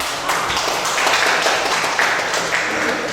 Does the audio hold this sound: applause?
yes